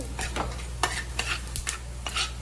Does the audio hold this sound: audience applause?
no